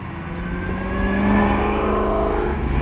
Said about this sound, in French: Le son d'un V8 avec un blower, c'est incroyable.